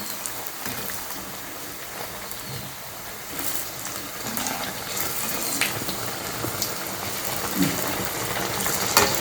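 Food frying on a low simmer in hot oil until golden brown, for a traditional Tamil Amavasai meal: a constant crackling sizzle, close and fairly loud, with light spattering pops throughout.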